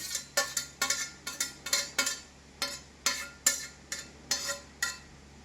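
Salad ingredients tossed in a bowl for a vegan dish, heard as about a dozen crisp, evenly spaced clinks and scrapes of a utensil against the bowl, close and fairly quiet, with no talking.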